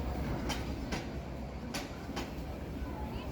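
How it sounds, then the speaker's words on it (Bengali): A train passes through Airport Railway Station in Dhaka, rumbling steadily at moderate distance with a few sharp metallic clacks over a low roar. "আরও একটা ট্রেন চলে যাচ্ছে আর আমরা অপেক্ষা করছি আমাদের ট্রেনের জন্য"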